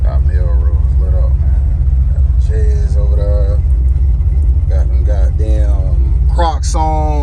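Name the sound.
cammed 1989 Chevy box engine idling in traffic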